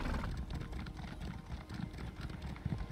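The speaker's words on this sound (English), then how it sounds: "Can I ride my horse here?" Horse hooves clop in a steady rhythm as a mount is ridden in the ESO Summerset video game, quiet and continuous with a low background rumble.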